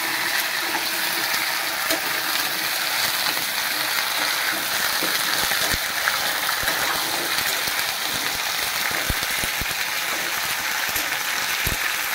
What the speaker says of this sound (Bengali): আলুগুলো হালকা একটু ভাজা হোক